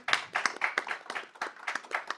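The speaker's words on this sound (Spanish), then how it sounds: "Gracias Alice, un aplauso" A small audience at a tech competition event claps briefly after a presentation, a short spell of sparse, separate hand claps heard close by.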